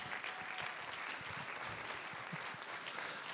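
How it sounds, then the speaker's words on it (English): An indoor audience at a live-streamed dyslexia center event applauds Karen with dense, steady clapping that carries evenly from start to finish, fairly quiet and distant. "Please give her a round of applause."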